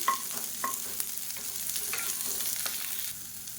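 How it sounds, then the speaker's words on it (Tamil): Long-sliced big onions sauté in a pan for chutney, giving a soft continuous sizzle broken by several sharp stirring clinks of a spoon against the pan. "இந்த வெங்காயம் நல்லா வதங்கட்டும்."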